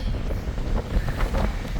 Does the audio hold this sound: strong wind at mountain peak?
yes